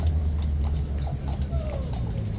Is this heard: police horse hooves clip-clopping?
yes